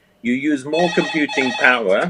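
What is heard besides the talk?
mobile phone ringing during interview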